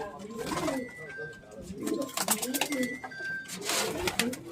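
Pigeons at a flying loft cooing in low, rolling phrases, several birds overlapping nearby with a few brief chirps, while someone talks over them.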